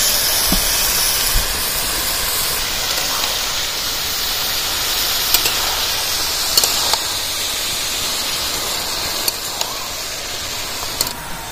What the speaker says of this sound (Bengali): বাকি লাউগুলো ঢেলে দিচ্ছি।